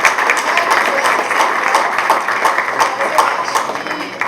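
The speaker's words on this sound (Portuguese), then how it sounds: "eu queria também aproveitar o momento e bater uma salva de palmas para ele," Audience applause at a research seminar opening, a dense, steady crackle of many hands clapping that continues throughout, fairly close and loud.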